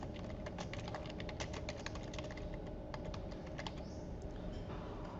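Typing on a computer keyboard, a quick irregular run of light key clicks heard close and alone over a quiet background hum.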